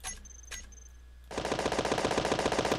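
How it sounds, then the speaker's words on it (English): A twin 50mm gun turret on a large warship in Space Engineers fires a rapid, steady burst of rhythmic shots after a quiet start with a few faint clicks, loud and continuous until the end. "This is a twin 50mm gun, or roughly 50mm gun."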